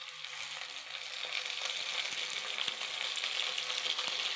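Tomatoes sizzle as they fry in a pan with a sautéed onion mixture for a dried fish curry, a steady broadband crackle that grows slightly louder and denser over the short stretch, with a few sharp pops.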